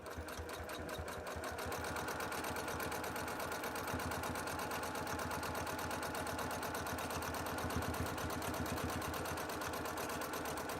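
A sewing machine stitches steadily through a quilt, its needle hammering in a fast, even rhythm close by, constant and loud for the whole stretch with no talking.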